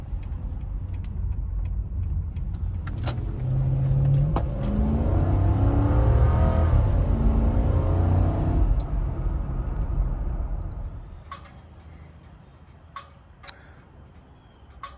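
A Toyota Land Cruiser 100 Series pulls away from a green light, its engine note rising steadily and loud for several seconds before easing off into quieter road noise, with a few sharp ticks near the end.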